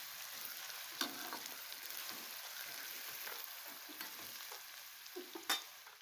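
Onion sautéing in oil for kanda pohe, with a soft continuous sizzle broken by a few distinct stirring scrapes and clinks of the spoon against the pan.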